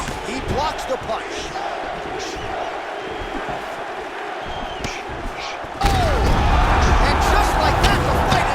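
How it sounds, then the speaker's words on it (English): Virtual arena crowd in the UFC 4 video game, Stipe Miocic versus Israel Adesanya, with a steady murmur that surges into loud cheering after a fight-ending strike, punctuated by thuds of blows and heard under commentary. "Crowd loving it."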